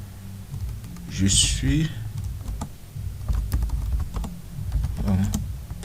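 Fingers tap out a sentence on a computer keyboard, a steady run of close, quick key clicks under a voice speaking French.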